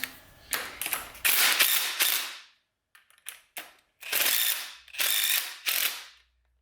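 Ratchet with a 3/8 12-point socket turning a bolt on a 4L80E transmission, heard as loud close bursts of rapid clicking in several runs with brief pauses between them.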